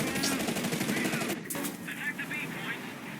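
Tank gunfire in the War Thunder tank game, with a sharp blast near the middle and rattling bursts of shots packed densely across a loud, busy battle mix, a voice speaking over it.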